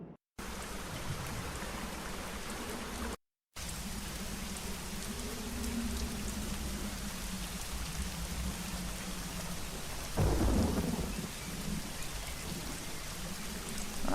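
Heavy rain pours steadily in the video game Secret Files: Tunguska, a constant hiss of water with a low rumble and a brief louder surge of splashing, and two short silent gaps near the start.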